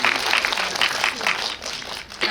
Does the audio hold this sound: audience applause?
yes